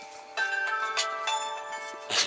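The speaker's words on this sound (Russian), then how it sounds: "Ладно, пока звонит телефон." A telephone rings inside a truck cab with a steady electronic tone that pulses in repeated bursts, loud and close, with no talk over it.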